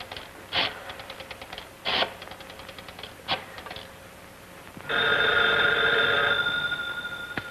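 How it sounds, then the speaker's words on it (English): An old-time typewriter in a detective radio drama: sparse bursts of rapid keystrokes with carriage-like clacks, then a loud, sustained electric telephone bell rings over it for nearly three seconds. "I can hear him trying to type."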